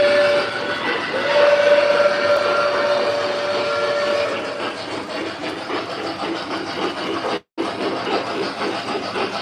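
A train rolls past with a steady, sustained whistle blast in the first few seconds, then a continuous loud rumble and clatter of rail cars that carries on to the end, cut by one brief dropout.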